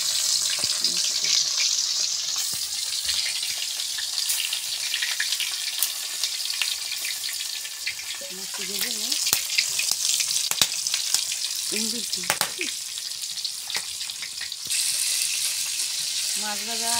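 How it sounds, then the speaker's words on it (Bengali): Fish frying in hot oil in a village kitchen hisses and sizzles continuously at close range, with brief bursts of speech breaking in over the steady crackle. "মাছ ভাজা প্রায় শেষের দিকে, এই যে মাছ ভাজা ওইছে প্রায়।"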